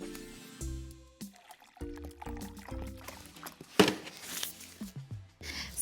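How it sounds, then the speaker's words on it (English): Water being poured to fill a big jar, heard as gurgling, splashing pours in uneven bursts, fairly close and quiet. "Fill a big jar or vase or tank about 2/3 full of water."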